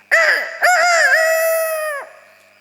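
A person mimics a rooster crowing during a storytelling workshop: two loud, drawn-out, strained vocal cries, the second held longer before breaking off, with no other talk.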